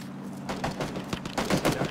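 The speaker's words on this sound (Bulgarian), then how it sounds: "Направо го стрелям това." Rapid gunfire bursts in the shooter game PUBG Battlegrounds, a stuttering run of shots that grows denser and louder toward the end of the brief moment.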